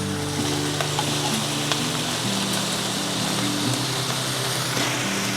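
Green beans go into meat frying in a pan for Philippine pancit canton, making a continuous moderate sizzle and stir noise under background music, with no voices.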